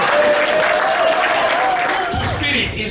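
Applause from a convention audience fills the room continuously, with a sustained tone and some voices carrying over the clapping before it thins out near the end.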